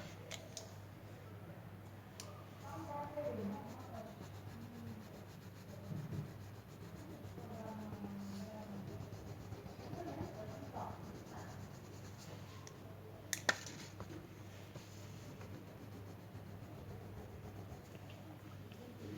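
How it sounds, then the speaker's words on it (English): A plastic crayon rubs back and forth on paper to blend colors, producing soft, close, uneven scratchy strokes with occasional small taps and clicks, faint and steady throughout with no voices. "just trying to merge the colors here, blend it actually, but it's plastic crayon so it's a little harder to blend"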